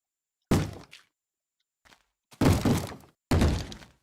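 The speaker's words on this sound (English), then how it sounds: "Can you not bang on the door?" Loud banging on a door in the Minecraft video game: three heavy, separate thuds in quick bursts, each with a short scraping tail, separated by near silence, with a faint knock in between.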